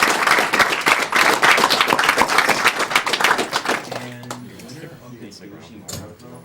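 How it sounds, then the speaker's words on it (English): Applause and clapping from the audience at a speedrunning marathon event, loud and dense for about four seconds and then thinning into scattered claps and background talk. "So we can give a big round of applause for him."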